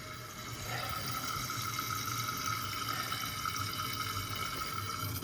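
Water rushes steadily into a toilet through a new supply line, a constant hissing flow that starts within the first second and holds even and close without pause.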